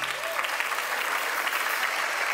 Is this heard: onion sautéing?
no